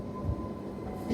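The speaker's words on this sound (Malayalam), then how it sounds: "ഒരു ലോക്കോമോട്ടീവ് മാത്രം വരുന്നുണ്ട്." A WAP-7 electric locomotive from the Ghaziabad shed approaches at Jammu station, a steady low rumble with a faint humming tone at a moderate distance, with no voices.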